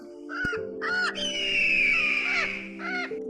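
A black crow caws several times in an animated Hindi children's story, with harsh, loud calls and one long drawn-out caw in the middle, standing alone without any speech.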